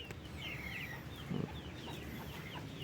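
Backyard free-range chickens cluck softly at a distance, with scattered bird chirps over a low outdoor background.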